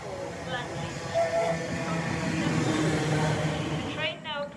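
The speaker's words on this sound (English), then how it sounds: "The train now approaches platform 2 does not stop here." A non-stopping train runs through a station platform with a steady roar and hiss from start to end, while a platform announcement voice speaks over it.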